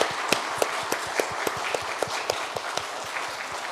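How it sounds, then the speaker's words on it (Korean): A church congregation claps during a service, a steady patter of many hands with distinct sharper claps standing out, moderately loud and fairly close, with no talking over it. "한번 박수 한번 하겠습니다."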